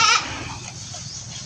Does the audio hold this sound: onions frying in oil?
no